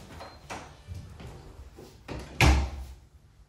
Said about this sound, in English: I didn't know this door may open up to some other crazy room.